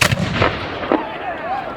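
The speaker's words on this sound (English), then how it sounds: "those artillery pieces, that big 12-pounder opened up" A 12-pounder artillery cannon firing at a French and Indian War reenactment, one loud booming blast at the start that rolls and echoes away, followed by a second, softer report.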